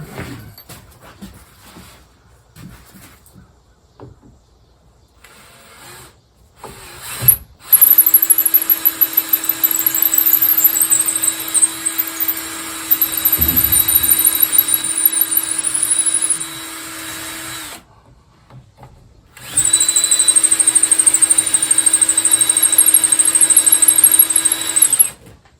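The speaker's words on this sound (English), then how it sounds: "Drill it." Power drill boring through parts of a Wharram Tiki 21 catamaran under construction: two long, steady high-pitched whirring runs, close and loud, separated by a short pause, with faint workshop noise before the first run.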